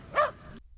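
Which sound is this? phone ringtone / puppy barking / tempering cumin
puppy barking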